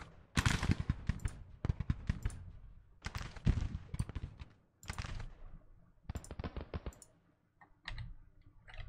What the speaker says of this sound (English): the firing is dying down